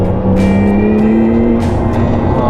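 A Porsche 911 Carrera 4 GTS cabriolet driving with the roof closed, a loud steady engine drone with a rising tonal note as it pulls along, heard from inside the car, with a few brief wind or tire bursts.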